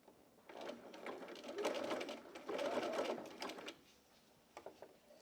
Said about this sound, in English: And we're going to stitch this down.